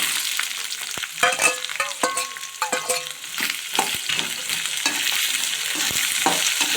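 Onions, dried red chillies, curry leaves and garlic frying in oil for tomato chutney: a loud, dense crackle and spatter with repeated stirring clatters early on, settling into a steady hiss, close up and with no talking.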